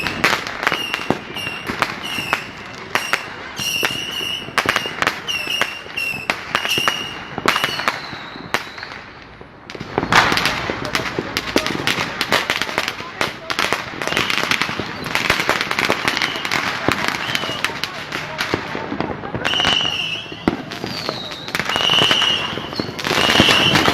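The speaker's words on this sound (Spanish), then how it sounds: "aquí ya empezaron la fiesta de los fuegos artificiales por la Navidad" Christmas fireworks bursting over the Plaza Mayor of Ayacucho, a dense run of sharp cracks and pops filling most of the stretch with crowd noise, a short lull near the middle, then more blasts with voices under them.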